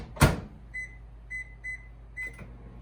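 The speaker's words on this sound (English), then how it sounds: "And Luke, if you want to put this in the microwave, and we'll start out with like 2 minutes" A microwave oven runs with a Pyrex bowl inside, a door thump at the start followed by a series of short, high beeps spaced across the moment, close and clear with no talk.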